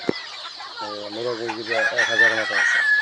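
Sonali and native chickens on a mixed poultry farm in Sakhipur, Tangail, cluck loudly and close, with a rooster crowing over the busy flock.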